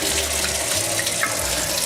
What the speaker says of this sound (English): I'm just kind of rinsing the potatoes off.